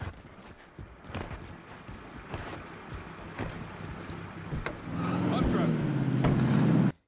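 A vehicle driving in a Call of Duty game, a rumbling engine with wind and rattling that swells louder near the end before cutting off, with a voice talking over it.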